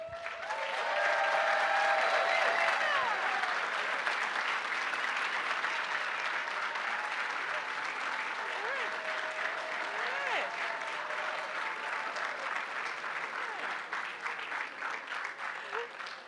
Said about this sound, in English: But I do now want to just do one final round of applause.